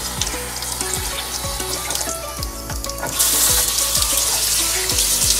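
Tap water runs steadily into a sink while a face is washed at a beach outing, the flow growing louder and more splashy partway through.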